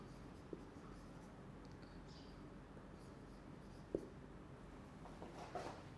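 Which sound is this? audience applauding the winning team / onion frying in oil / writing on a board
writing on a board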